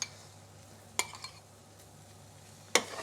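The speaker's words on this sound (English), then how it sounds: "So we'll just mix the honey and mustard over all of our parsnips, our broccoli, and all over the place." Parsnips and broccoli coated in honey mustard dressing are stirred in a pan, a faint low sizzle broken by two or three sharp utensil clinks against the pan, close by and without talk.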